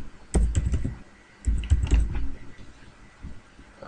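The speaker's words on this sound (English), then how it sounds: "we're now able to continue typing" Computer keyboard typing in short bursts of quick clicks, a cluster early and another in the middle, then a few scattered taps, close and fairly quiet with no talk.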